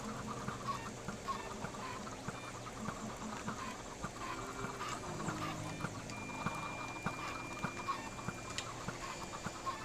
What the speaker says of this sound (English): Oh, so many chickens have gone out.